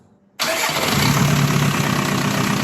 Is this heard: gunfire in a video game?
no